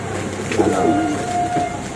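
A soft, low bird coo rises and falls once or twice against a steady background hum.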